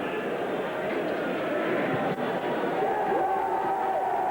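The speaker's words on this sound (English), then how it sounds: "the very strong Welsh contingents roaring themselves hoarse" A large Welsh crowd roaring at a 1996 Wales versus Australia rugby test, a steady, dense wash of distant cheering that holds throughout at moderate loudness.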